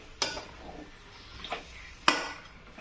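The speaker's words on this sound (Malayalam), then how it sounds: "നന്നായിട്ട് ഇളക്കി കൊടുക്കാം മസാലയായിട്ട്" A spoon stirs one kilo of skinned chicken with masala in a pot for chicken curry, giving a few faint scrapes and three sharp clinks of metal against the pot.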